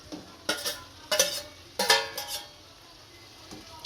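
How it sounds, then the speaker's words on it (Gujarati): Okra is stirred into fried masala in a pan, a soft simmering sizzle broken by four or five sharp scrapes and clinks of a spoon against the metal, up close with no talk. "આ ભીંડો ભેળવી દઈશું આમાં"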